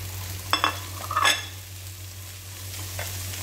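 Ground beef fries in a pan with a low, steady sizzle under a constant hum. A few sharp clinks and scrapes of stirring come early on, and no one speaks.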